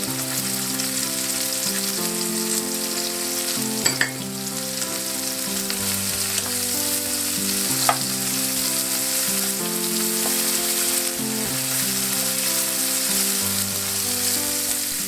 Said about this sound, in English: These potatoes have been frying nicely.